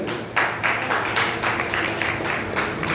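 An audience at a speech event claps together, a steady, fairly loud patter of many hands with brief swells, no talking over it.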